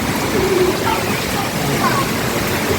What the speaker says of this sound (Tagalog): ang lakas ng buhos ng ulan dito ngayon sa para at walang tila